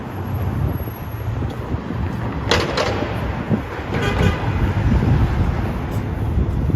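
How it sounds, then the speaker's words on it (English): Rush hour street ambience in Manhattan, New York City: a continuous, loud rumble of traffic with wind buffeting the microphone and a few brief clanks, no talking. "the ambience of rush hour traffic is nice"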